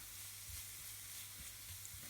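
Onions soften gently in butter in a pan, giving a faint, steady low sizzle with a few soft stirring scrapes and a background hum, no talking.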